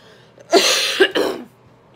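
A single person coughs twice in quick succession from something stuck in the throat, close and loud, with a brief throaty clearing quality and quiet surroundings.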